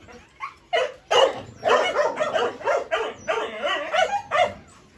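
Dogs bark at a dog farm in Bắc Hà, Vietnam, in a steady run of loud, overlapping barks with some yips and whimpers mixed in. No one speaks.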